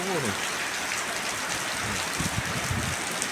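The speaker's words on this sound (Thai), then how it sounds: "ฝนตกแล้วฝนตกแล้ว พี่น้องฝนตกแล้ว" Heavy rain pours steadily during a late-rainy-season storm as the wind dies down, a dense continuous hiss with someone talking excitedly over it.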